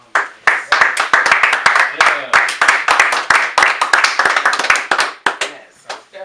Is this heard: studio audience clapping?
yes